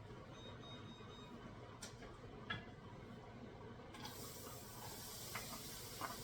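Onions going into a hot pan with garlic for a baked beef rigatoni, giving a quiet, steady sizzling hiss that starts partway through and carries on to the end, with no talk.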